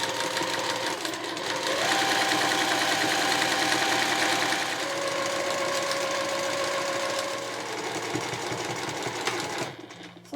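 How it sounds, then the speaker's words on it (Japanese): A sewing machine stitches around the edge of a two-tone cotton shoulder bag, a close, continuous whirring hum with rapid needle clatter that holds steady for about ten seconds and then cuts off. "そしたら周囲を端から5ミリで縫います。"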